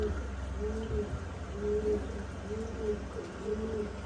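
Pigeons cooing nearby, a soft repeated series of low rolling coos with short gaps, steady and fairly quiet against faint background noise.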